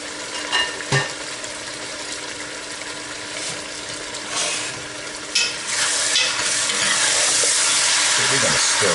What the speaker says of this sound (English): So we're going to stir it and make sure that they are coated with the oil.